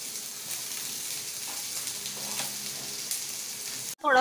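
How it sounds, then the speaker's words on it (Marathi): Onions fry in oil in a pan, browning toward reddish-brown, giving a soft continuous sizzle with faint stirring and bubbling, ending in a sudden louder clatter. "कांदा पूर्णपणे लालसर असा भाजून घ्यायचा आहे."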